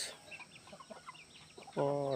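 A quiet outdoor background with faint scattered sounds, then a single loud, drawn-out hen call close by at the very end.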